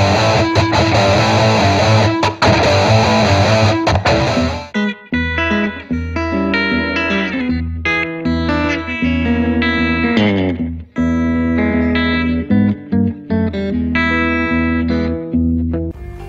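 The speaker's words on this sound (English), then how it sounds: "some incredibly musical high-gain tones that really blaze" Heavily distorted electric guitar through a high-gain Line 6 Spider IV amp, starting with a sustained crunchy chord before choppy riffs and bright lead notes.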